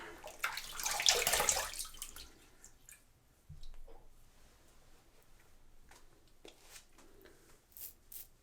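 Water runs from a tap for a post-shave rinse, splashing loudest in the first two seconds and then continuing as a quieter trickle with drips and small splashes.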